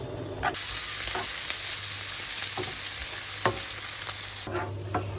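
Sheep tail fat sizzles and melts in a hot pan, a loud continuous close frying hiss broken by a few soft stirring scrapes, then the sizzle drops away near the end.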